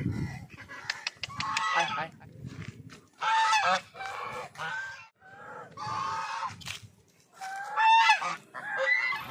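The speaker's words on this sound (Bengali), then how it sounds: "আর আমার একদম এই সাইডে রাজহাঁস আছে কয়েকটা, এই যে রাজহাঁস যাচ্ছে" Geese at a resort pond honk loudly and close by in repeated, uneven bursts of harsh calls, with short pauses between the outbursts.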